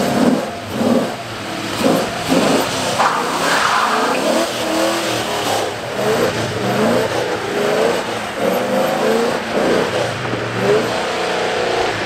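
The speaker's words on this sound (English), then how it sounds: "He definitely got the drifting." A Ford Mustang drifts on a hill at Atlanta Motorsports Park, its engine revving hard and rising and falling in pitch with skidding tyres, loud and sustained throughout.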